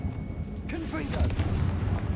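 A Confringo blast spell in the Hogwarts Legacy video game bursts out suddenly after a quiet moment, a single loud fiery explosion followed by a rumbling tail.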